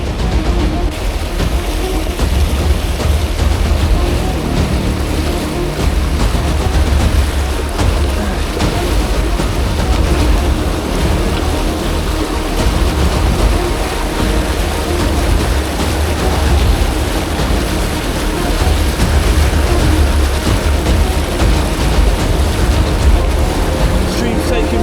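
River water rushes loudly and continuously around a solo hiker crossing a river on the Te Araroa trail in New Zealand, a dense roar that fills the whole stretch with no pause.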